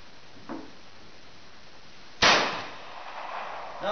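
A single sharp report from a .45 Colt six-gun fired offhand at a cowboy steel plate 50 yards off, loud and abrupt, then trailing into a decaying ring and echo, with a faint click earlier.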